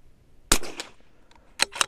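A single sharp crack from a .22LR rifle fired at a target rings out close, followed by faint rustle and a couple of brief clicks and knocks near the end.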